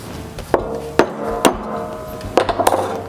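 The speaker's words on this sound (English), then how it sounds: "So I'm going to punch a little hole there." Metal disc cutter punch driven through sheet metal in a studio, sounding as several sharp hammer strikes at irregular intervals with a quick cluster of taps near the end, close and clear with no talking.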